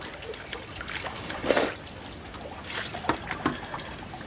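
Water spills over the brim of a filled container, a faint trickling and splashing with a few brief louder gushes amid a quiet outdoor background.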